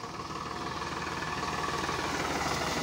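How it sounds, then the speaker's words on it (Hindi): Tractor engine labouring under a heavy load of harvested mung bean crop on a farm, a steady loud rumbling drone with a continuous throbbing rhythm and no talking. "तो ट्रैक्टर को फुल जोर आ रहा है"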